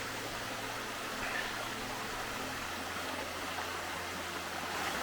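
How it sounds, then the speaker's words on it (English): A small waterfall with only a modest flow of water on a hiking trail near Boquete, Panama, giving a steady, soft rushing wash with a faint low hum beneath. "there's not a whole lot of water coming over that waterfall"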